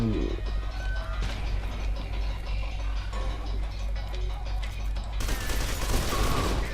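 Rapid bursts of gunfire in the video game F.E.A.R. 2 crackle and rattle in dense succession, mixed with mechanical clatter and swelling louder toward the end, with no voices over it.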